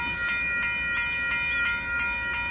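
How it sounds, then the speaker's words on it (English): Union Pacific northbound freight train of gravel and hopper cars passing at a road crossing in Austin, heard as a close, continuous rumble with a sustained tonal horn sound and faint rhythmic clatter, no voices. "we got some freight trains heading our way this morning"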